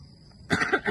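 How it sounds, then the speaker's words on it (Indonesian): A single short cough bursts out abruptly after a moment of near quiet, close to the microphone. "Batuk."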